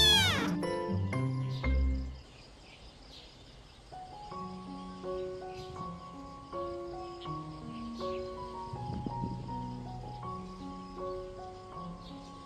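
Stray cats meow in a few clear, high calls near the start. Gentle tinkling musical tones continue steadily behind them.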